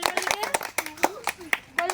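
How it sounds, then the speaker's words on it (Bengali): Children clap their hands in quick, uneven bursts of close, crisp claps while young voices chatter and call out over them. "হাততালি দাও হাততালি দাও"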